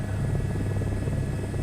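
Aircraft engine drone from Microsoft Flight Simulator 2024 as a plane comes down to land, a steady, loud, buzzing hum with rhythmic throbbing and no voices.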